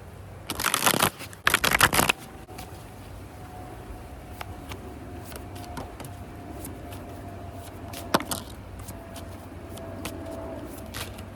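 Tarot cards are shuffled in two brisk riffling bursts near the start, followed by faint scattered card taps and handling against a low background hum.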